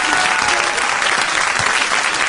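Dense, sustained applause from a live studio audience at a 2005 French radio show fills the whole stretch, loud and even with no breaks.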